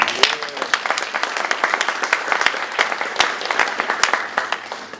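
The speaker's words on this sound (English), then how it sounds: "I think you deserve an enormous round of applause." A dinner audience at a leadership transition event applauds performers, steady clapping from many hands with a few sharp nearby claps standing out, sustained throughout.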